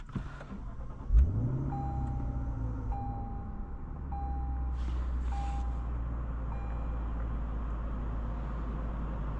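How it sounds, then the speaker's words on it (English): A 2016 Lexus GS F with a 5-liter naturally aspirated V8, its engine rumbling low and steady from inside the cabin, with a brief loud burst near the start and a repeating electronic chime over the drone. "Today we're going for a drive in my boy's 2016 Lexus GSF."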